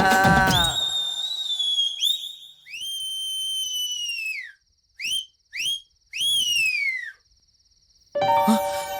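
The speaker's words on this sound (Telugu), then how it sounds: "ఏయ్ ఆపేసావే? ఎయ్యరా విజిల్." A man whistles loud, clear tones in a comedy scene, long sliding notes broken by short chirpy bursts and brief pauses, with voices before and after.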